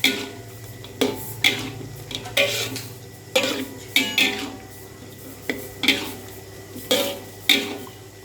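Food being stirred in a cooking pan, the spoon scraping and clinking against the metal about once a second in a steady rhythm over a low background hum.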